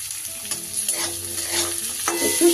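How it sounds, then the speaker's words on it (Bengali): Mixed vegetables are stirred and fried in a pan for barnyard millet khichdi, with a close sizzle under repeated scraping strokes of a spoon, loud and busy throughout, no voices. "সবজিগুলোকে জাস্ট ভালো করে নাড়িয়ে চাড়িয়ে নেব।"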